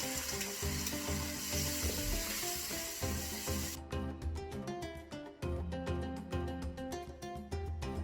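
Canned chopped tomatoes sizzle in a pot with onions and garlic while a one-pot tilapia fish dish is cooked. A loud, steady hiss over background music cuts off about halfway through, and the music carries on alone.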